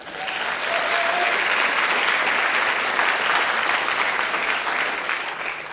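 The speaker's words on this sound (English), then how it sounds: "Kate Scherer, Nora Cello, and Jessie Gold, and also an applause for them, they did really miracles." Steady audience applause, dense and sustained clapping from a crowd throughout, with no speech over it.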